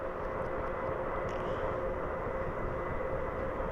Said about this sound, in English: we are going to line up in this runway right now and proceed with our takeoff